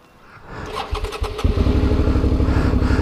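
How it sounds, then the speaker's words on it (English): An adventure motorcycle engine cranks briefly, catches and settles into a steady, slightly rough idle. The sound is close and loud, with no talking. "One thing I've noticed with this motor, it just doesn't seem to start as easy."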